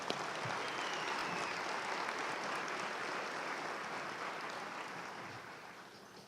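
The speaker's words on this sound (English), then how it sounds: "Let's give these individuals a round of applause" A morning college commencement audience claps in a broad, sustained round of applause that slowly tapers toward the end.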